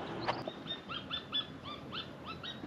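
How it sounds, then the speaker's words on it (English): An unidentified bird calls near duck decoys on a Wisconsin marsh during an opening-day duck hunt: a series of short, fairly close chirping notes repeating in an uneven rhythm over a steady outdoor background hiss. "Some sort of bird."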